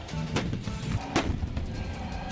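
Heavy artillery and weapon blasts boom in a military setting, with a couple of sharp, loud broadband bursts over a dense rumbling background of continuous low-end noise and no talk.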